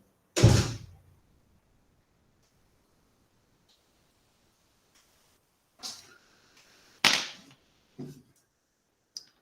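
A door bangs shut with a sharp, loud thud indoors, followed a few seconds later by a couple more knocks and clatters in an otherwise quiet room.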